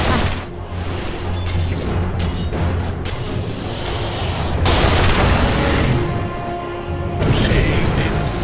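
Explosions hit a tower in a Dota 2 battle, several heavy booms and crashes bursting over a dense, busy layer of game combat sound.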